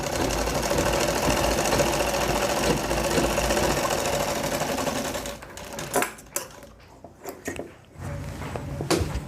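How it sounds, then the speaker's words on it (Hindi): A sewing machine stitches a folded trouser bone pocket in a fast steady run of rattling stitches, then stops and gives way to a few scattered clicks and handling knocks. "दूसरे बोन को भी हम इसी तरह मोड़ के सिलाई लगा देंगे।"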